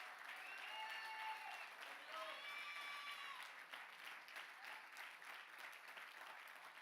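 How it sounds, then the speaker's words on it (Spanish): A church congregation applauds during a Spanish-language sermon, a steady, moderately distant wash of clapping that holds for several seconds with cheering voices and whoops rising over it. "Dale el aplauso a Dios por su fidelidad."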